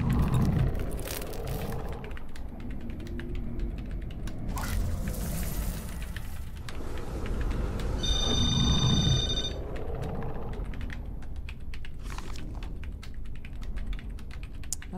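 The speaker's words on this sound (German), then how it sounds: "Und er tippt einfach weiter." Keyboard typing in the video game Beyond: Two Souls, a continuous patter of keystrokes over a busy game soundscape with occasional whooshes and a brief electronic chime partway through.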